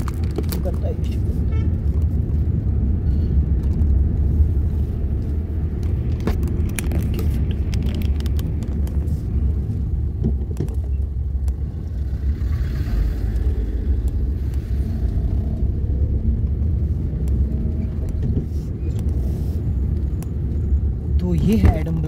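Interior of a car driving, with a steady low engine and road rumble throughout and a person talking over it.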